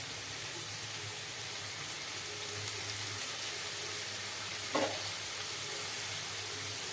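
Cabbage, carrot and a green chili frying in a pan for chicken fried rice, a steady soft sizzle that runs throughout, with a brief scrape of stirring near the end and no talking.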